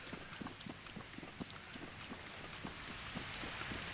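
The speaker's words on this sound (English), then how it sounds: "what, 2 more in-game hours until this rain stops?" Rain falls steadily in a Zelda video game, a soft continuous hiss with faint rhythmic clip-clop steps underneath, quiet and without talk.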